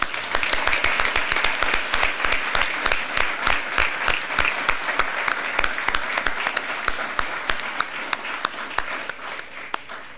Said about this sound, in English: please join us in a final round of applause for the Wall Fellows Class of 2024